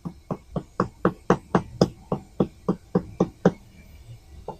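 A hammer taps lightly in a close, steady rhythm, about fourteen crisp, even knocks in quick succession with no voices.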